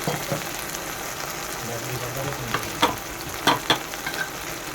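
Ginger, garlic and tomato paste fry in a pan with a steady close sizzle, broken by a few sharper stirring scrapes and spatters toward the end.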